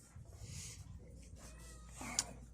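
A cat meows once, briefly and fairly close, near the end, with low rumbling traffic or car noise and faint murmur around it.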